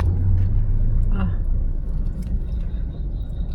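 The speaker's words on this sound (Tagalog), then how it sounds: "Ang traffic na kamoy." Road traffic rumble heard from inside a Lalamove delivery vehicle carrying a 300 kg load, a low steady engine and road drone with a brief jangle, while people talk over it.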